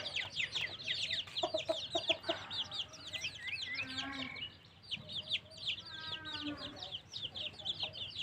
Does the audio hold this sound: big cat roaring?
no